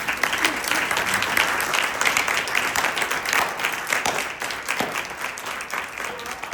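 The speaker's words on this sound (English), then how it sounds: "Let's give a round of applause for all." Sustained audience applause at a library board meeting, a steady dense patter of many hands clapping at moderate volume throughout, with no talk over it.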